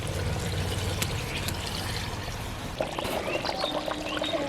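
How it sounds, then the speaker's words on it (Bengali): Hot water poured into a pot of broiler chicken curry gives a continuous close splashing gurgle that shifts in tone toward the end, with faint bubbling beneath. "এই যে এবার আমি গরম জল দিয়ে দিচ্ছি।"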